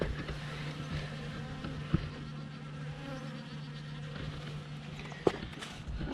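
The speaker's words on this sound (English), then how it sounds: "Bees are up here getting water" A steady low buzzing of honeybees drinking water from plant rings at a bee farm hums throughout, close by, with a couple of faint knocks.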